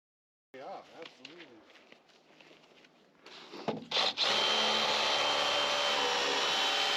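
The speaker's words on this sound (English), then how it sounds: "it's just a wedge anchor essentially that gets drilled into the concrete" A wedge anchor is drilled into a concrete shed pad with a loud, steady hammer-drill roar that runs alone for the last few seconds, after a stretch of speech.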